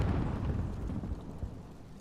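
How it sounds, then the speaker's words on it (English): A run of heavy explosion rumbles from an airstrike in a battle royale video game, booming and dense through the low end, with several deep thumps rolling on for two seconds. "And the airstrike took out the last man."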